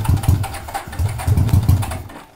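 An old motorcycle with a weak, dying battery and no choke cranks over repeatedly without catching, giving a rough, pulsing low engine churn in uneven bursts up close, then fading at the end.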